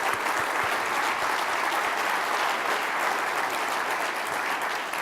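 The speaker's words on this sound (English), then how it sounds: "Let's give them a round of applause." Steady, dense applause from a large conference audience at the Mackinac Policy Conference opening session, continuous and evenly sustained for the full stretch with no speech over it.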